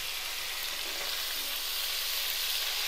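Whole fish frying in a pan of oil for Kerala-style meen pollichathu, a steady, close, continuous sizzle with no talk.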